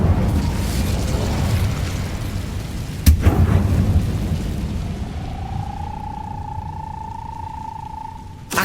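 Casting the Incendio fire spell in Hogwarts Legacy produces a sudden whooshing burst over a rumbling, roaring background, fading into a lingering ringing tone before a final short thump.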